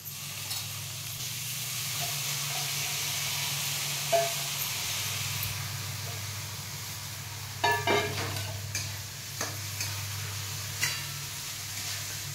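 Sprouted moth beans fry with spices in a home kitchen pan, a steady close sizzle with a stir and several clinks of a spoon against the pan partway through, and no one speaking.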